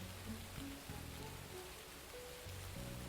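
Soft rain falls steadily as an ambience effect in a Curse of Strahd tabletop game session, quiet and even, with low sustained tonal notes underneath.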